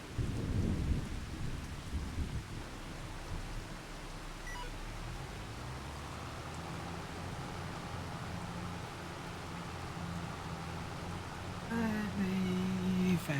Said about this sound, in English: Fast time through this little storm that we've got going here